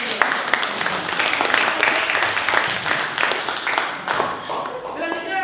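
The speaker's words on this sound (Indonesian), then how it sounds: "Kasih aplaus sekali lagi untuk Angel." Applause from a classroom group after a student group's presentation, a dense wash of clapping hands filling several seconds at fairly close range, tapering slightly toward the end.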